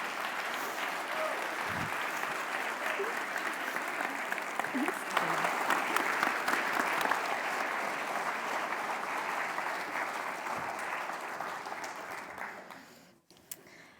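An audience at an oration event applauds in a steady, dense wash of clapping that holds for over ten seconds, then thins and fades near the end.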